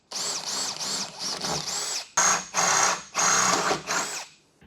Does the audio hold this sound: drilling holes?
yes